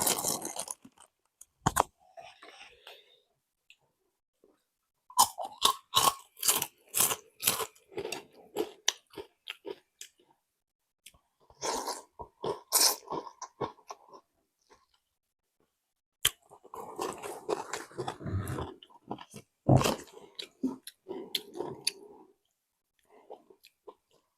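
Crunchy pork rinds eaten with Thai rice noodles, close up: bursts of loud crisp crunching and chewing come in clusters separated by short quiet gaps, with no talking.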